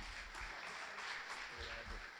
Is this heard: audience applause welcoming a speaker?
yes